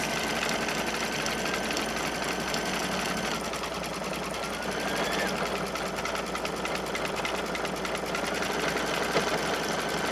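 An embroidery machine runs steadily as it stitches a line straight across a zippered pouch held in the hoop, giving a fast, even mechanical whirr with a faint rhythmic chatter that carries on without a break.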